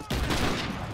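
Gunfire in a video game shooter, a dense burst of rapid overlapping shots filling about a second, loud and close.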